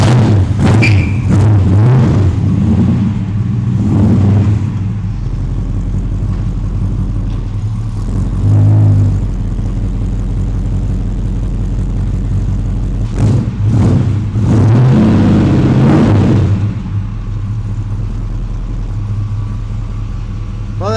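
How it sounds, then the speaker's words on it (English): A 1936 Ford flathead V8 engine runs steadily at idle for a long stretch, a deep continuous rumble with occasional swells as the revs rise briefly. "Well, that engine sounds quite healthy."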